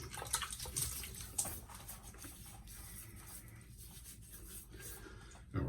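Quiet water from a tap splashes and trickles as someone wets their face before a shave, soft irregular splashes and drips with a couple of louder slaps of water near the start and end.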